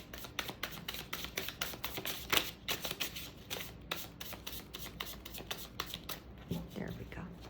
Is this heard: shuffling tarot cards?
yes